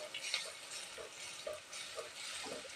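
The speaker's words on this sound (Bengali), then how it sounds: "আমি অল্প পরিমাণে তেল দিয়ে ভেজে নিচ্ছি" Raw potatoes frying in a little oil in a pan: a soft, steady sizzle with a few faint clinks and stirring taps, quiet and close, with no talk.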